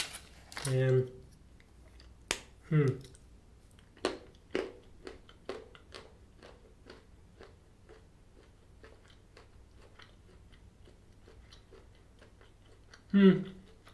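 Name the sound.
chewing crunchy dark chocolate with salted caramel pieces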